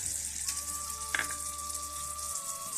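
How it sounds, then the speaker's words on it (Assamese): Jujube (Indian plum) pickle with sugar being stirred in a frying pan: a soft, steady sizzling hiss, one brief scrape of the spoon, and a faint humming tone in the background, with no talking. "চেনি দি ভালদৰে লাৰি দিম"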